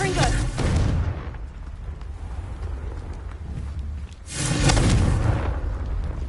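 The Confringo blasting spell is cast in Hogwarts Legacy, landing as two loud explosive bursts with a rumbling tail, one at the start and one near the end, over a steady low game ambience.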